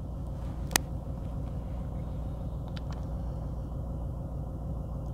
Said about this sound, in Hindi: And this car is running on CNG।